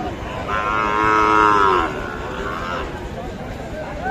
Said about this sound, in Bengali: শাহিহল জাতের খুব ভালো মানের শাহিহল গরু